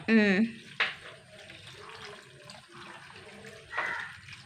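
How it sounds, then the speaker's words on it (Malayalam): Water is poured into a pot of curry seasoned with chilli powder, pepper and salt for an Onam feast, giving a short splashing pour at close range followed by soft stirring and kitchen sounds. "വെള്ളം ഒഴിച്ചു കൊടുക്കട്ടെ"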